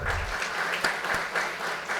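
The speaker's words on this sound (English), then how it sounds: "huge round of applause for yourself" Conference inaugural ceremony audience claps in a brief, moderately loud round of applause, sharper hand claps standing out against the steady patter.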